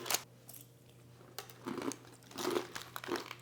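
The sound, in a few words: crunchy apple chips being bitten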